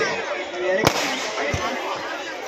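Rocket firecrackers go off at a Kanda Sashti Soorasamharam temple festival at Vellore Fort, with two sharp bangs cutting through a constant loud crowd din.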